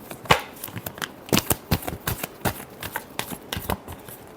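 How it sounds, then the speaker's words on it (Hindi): Tarot cards being shuffled by hand, a series of crisp riffling flicks and soft slaps in an irregular rhythm, close and clear with no talk over them. "last shuffle"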